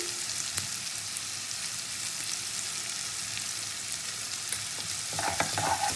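Onions frying in oil with salt, the oil previously used for frying potatoes, give a steady crackling sizzle with occasional sharp pops and a spatula stirring near the end, with no speech.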